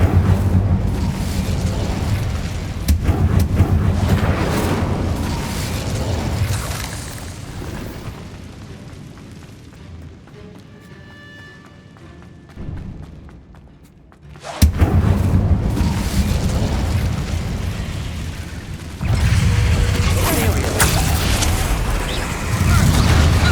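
Magical spell blasts from Hogwarts Legacy, loud booming bursts in dense game combat with an exploding, rumbling texture, a brief quieter lull in the middle before heavy blasts resume.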